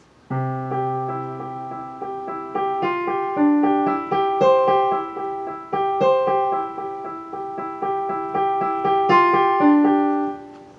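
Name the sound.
piano playing a melody line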